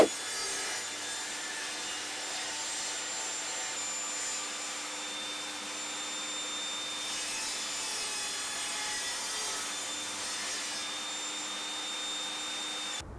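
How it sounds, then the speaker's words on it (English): Steady, continuous whine of an Evolution Rage 5S table saw cutting wood, running loud and unbroken with a high hiss throughout, no pauses or voices. "I'm using my table saw to cut everything to the right dimensions"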